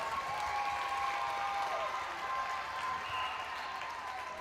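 Netball spectators applaud a Gibraltar goal in a New Zealand versus Gibraltar youth championship match, a steady wash of clapping and crowd noise sustained throughout at a moderate distance.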